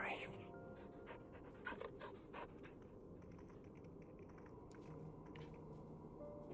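Dog panting in Final Fantasy XVI, a steady breathy rhythm under game background noise and music, with speech-like sounds present throughout.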